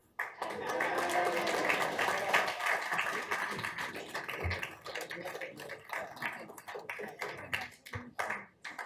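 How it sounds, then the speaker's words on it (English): A round of applause in a Tucson city council meeting, a dense burst of clapping from the chamber that swells, holds for a few seconds, then thins out into scattered claps. "So give him a round of applause as well."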